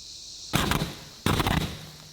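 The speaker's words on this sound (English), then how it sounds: "Explosion ASMR." Two loud, sharp bursts from car batteries exploding, roughly a second apart, each a broad crackling blast that decays quickly into quiet.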